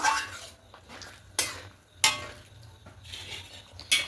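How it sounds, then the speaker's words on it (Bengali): A spoon mixes yogurt into paneer chana masala in a pan, with irregular scraping and a few sharp clinks against the metal. It sounds close, with soft pauses between strokes and no speech. "এবার টক দইটা এখানে দিয়ে দেবো খুব ভালো করে মিশিয়ে নেব"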